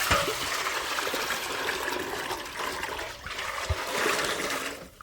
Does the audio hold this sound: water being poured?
yes